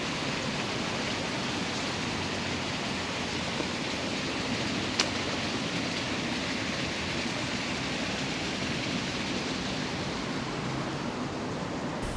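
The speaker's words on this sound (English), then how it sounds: "enjoy the sound of the waterfall" A waterfall in a Japanese garden pours with a steady, even rush of white noise, unbroken and moderately distant, with no voices over it.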